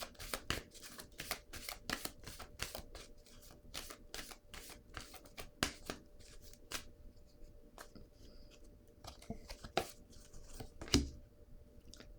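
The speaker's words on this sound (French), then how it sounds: "Je vais piger une autre carte." Tarot cards are shuffled by hand in a quiet room as a series of crisp, papery riffles and taps, some in quick clusters and others spaced apart, close and soft, with no speech.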